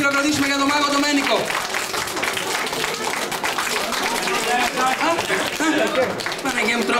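Audience applause for the magician Domenico at a 1997 children's celebration, a sustained wash of clapping from a crowd that carries on for several seconds, with voices audible over it.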